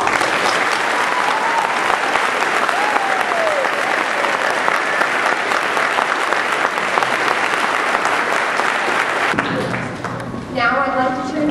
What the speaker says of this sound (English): can we have a round of applause for our veterans?